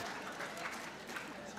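Audience applause at a debate on religion, a dense continuous wash of clapping from a large hall crowd, steady and fairly distant.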